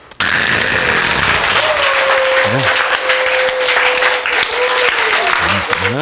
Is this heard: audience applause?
yes